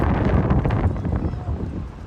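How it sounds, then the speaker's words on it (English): Strong outdoor wind on Tenerife buffets the microphone with a constant low roar, loud and close for the whole stretch. "forgive the wind, but it's quite windy out here."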